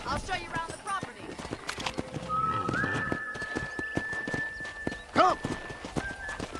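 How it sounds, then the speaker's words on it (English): Horse hooves clip-clopping in the video game Red Dead Redemption, a steady walking rhythm of hoofbeats under people talking, with a tonal whistle-like sound and a brief whinny-like burst partway through. "let's see if you can still ride a horse"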